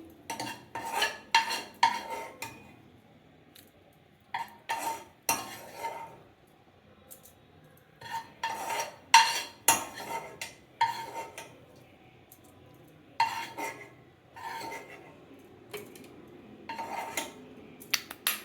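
Cucumber and sesame chutney is worked in a stone mortar, with bursts of grinding, scraping and knocking strokes separated by quiet pauses, close and fairly crisp, no speech.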